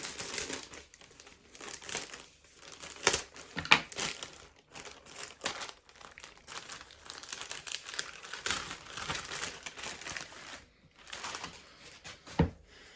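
Close, quiet crinkling and rustling of plastic packaging, irregular bursts of crackle with a couple of sharper snaps, no voices.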